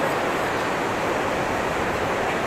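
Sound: mountain waterfall

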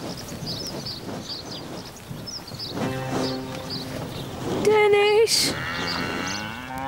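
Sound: cows on a farm

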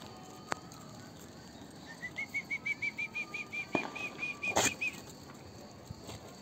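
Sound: bird wings flapping

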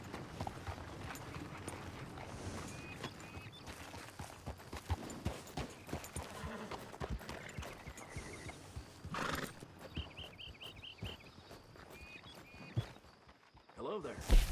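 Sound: horse walking, from video game Red Dead Redemption 2

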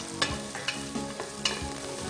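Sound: green chilies and onion frying in hot ghee

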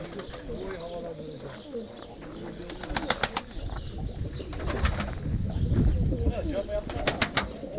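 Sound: pigeons cooing

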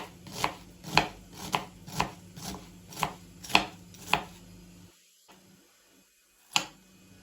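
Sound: chopping onions with knife

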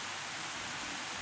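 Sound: rain falling

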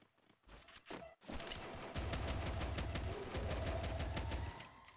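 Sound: double pistol gunfire in a shooter video game

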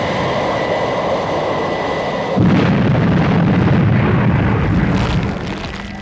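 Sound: explosions beneath an aircraft

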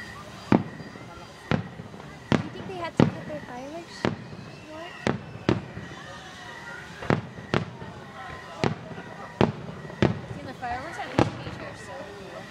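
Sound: fireworks exploding

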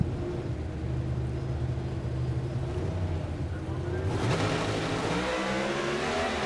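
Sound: NHRA drag racing cars launching off the starting line

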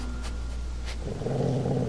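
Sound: puppy growling in The Walking Dead video game

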